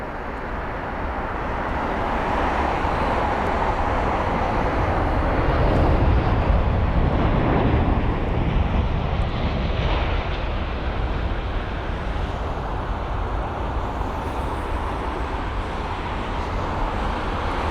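Swiss Airbus A220 airliner at London Heathrow at sunset, with a broad jet rumble that swells to a peak around midway and then holds at a steady, fairly loud level.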